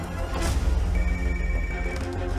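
A telephone ringing in an office, with a brief bright tone standing out over a low rumbling background, heard alone without anyone speaking.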